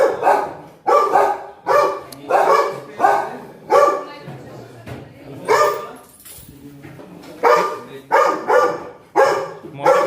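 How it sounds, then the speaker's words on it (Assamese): A dog barks repeatedly in bursts, close by, with people talking over and between the barks. "মই তাকে লৈ আৱাজডাল অলপ কণ্ট্ৰল কৰিলে মই কুকুৰটো লৈ আহিম হে"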